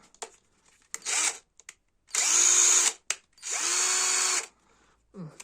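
A Houselux cordless screwdriver whirs in two sustained bursts with short clicking, ratcheting bits between them, close and loud, no talking.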